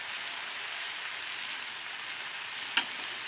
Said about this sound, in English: We got our veggies over here cooking beside me.